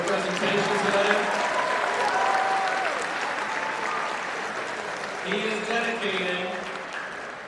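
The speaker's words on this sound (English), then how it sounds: "please give a round of applause to Rob Thorson for his presentation today." School assembly audience giving a round of applause for a presenter, sustained clapping with a voice talking over it partway through and crowd noise underneath.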